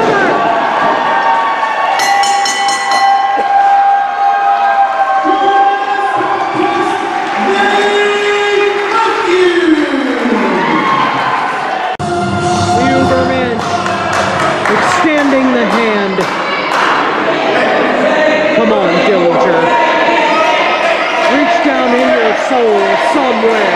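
A loud wrestling crowd roars and cheers throughout, surging and swelling in waves with chants and shouts mixed in, a dense wall of noise that stays strong for the whole stretch.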